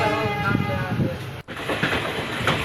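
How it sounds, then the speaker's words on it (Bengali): Train running on the Silchar–Lumding mountain railway in the hills around Haflong, a steady rolling rumble with rhythmic wheel clatter throughout and a brief dropout midway, heard close and continuous. "এই পাহাড়ি পথে কত কিছুরই বোঝা বহন করে এগিয়ে চলে রেলগাড়ি"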